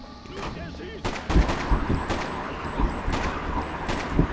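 Gunfire in the video game Freedom Fighters, a scattering of sharp shots and bursts over a busy battle soundscape, fairly close, with someone talking over the action.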